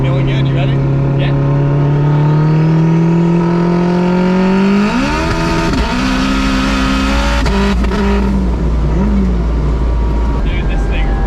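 A 1000HP Acura RSX DC5 street car accelerates hard with a loud, rising engine howl that drops sharply at a gear shift and then climbs again, heard from inside the cabin with boost and road roar beneath.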